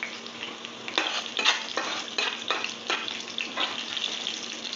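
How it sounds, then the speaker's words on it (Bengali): Onions and halved green chillies fry in a hot pan, a steady close sizzle broken by several sharp bursts of crackling as the pieces are stirred, with no voices. "পেঁয়াজ একটু ভাজা হয়ে এসছে,"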